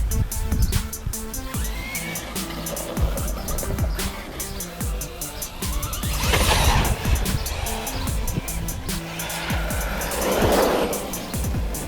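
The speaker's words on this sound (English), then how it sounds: "The Arrma Nero Big Rock 6S BLX." An Arrma Nero Big Rock 6S BLX RC monster truck whines and revs in uneven bursts, its electric motor pitching up and down with scrabbling, skidding surges from fairly close by.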